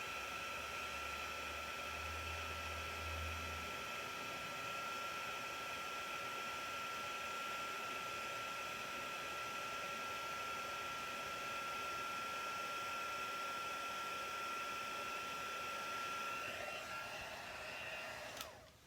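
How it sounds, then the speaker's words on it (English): A heat tool melting embossing powder on a stamped card blows a steady, loud whirring roar for nearly the whole stretch, close by, then switches off at the end. "Let's heat this up and melt this on."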